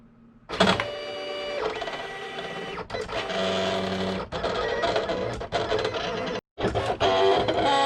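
Cameo 4 Plus vinyl cutting machine running a cut: whirring, buzzing stepper-motor runs in short, stop-start bursts with brief pauses, close and fairly loud.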